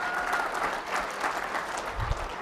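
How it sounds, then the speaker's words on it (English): Applause for a contest winner, a steady dense wash of many hands clapping at moderate distance throughout, with no voices over it. "Congratulations. Big winner. A round of applause."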